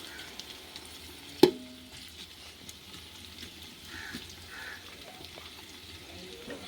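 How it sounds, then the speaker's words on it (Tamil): Green chilies sauté in a pan for seeraga samba biryani, giving a soft, steady sizzle close by, with one sharp metallic clank early on and light stirring noises after it. "நெக்ஸ்ட் பச்சை மிளகா போடணும். இப்போ நல்லா வதக்கணும், ப்ரௌன் ஆகிற வரைக்கும்."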